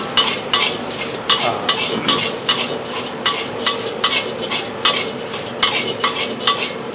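Metal utensils clank rhythmically against a wok while fried noodles sizzle underneath, a steady stir-fry beat of repeated sharp scrapes and knocks.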